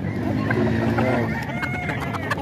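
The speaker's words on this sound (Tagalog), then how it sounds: "Ito po yung mga manok niya, oh." A flock of hens and roosters sired by a Tasmanian rooster clucks and crows close by, with overlapping calls and a steady farmyard murmur beneath.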